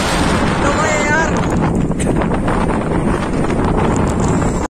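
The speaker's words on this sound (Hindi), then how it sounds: "भाइयों खतरनाक ये हवा चल रही है" Strong wind blows before a storm, giving a loud, steady rushing roar that buffets the microphone without pause and cuts out only at the very end.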